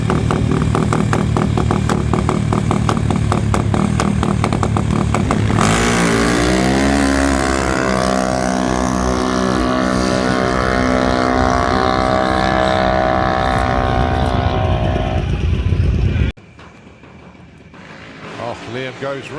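Junior dragster engines race at Santa Pod Raceway, a loud buzzing run that climbs in pitch as the cars accelerate away, then cuts off abruptly, leaving quieter crowd and track ambience.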